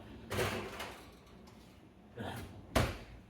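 A kitchen oven door opens and shuts as trays of frozen chocolate chip cookies go in, giving a few dull knocks and a final solid clunk, fairly quiet.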